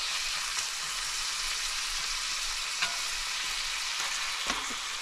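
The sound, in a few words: onions and burger patties frying in grease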